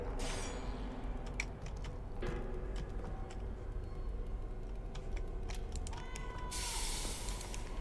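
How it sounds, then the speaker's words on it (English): A cat meows in the horror video game We Are Saved, where cats are rescued from a chainsaw-wielding figure. The short meows are faint and scattered, mixed with clicking and low ambient game noise, and no one talks. "I can hear the cat, but I can't see the cat."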